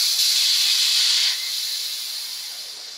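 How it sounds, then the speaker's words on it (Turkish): A Fakir steam mop from BIM vents steam with a loud, steady hiss that eases slightly halfway through and continues alone without talk. "Bu şekilde buharı atmaya başlıyor."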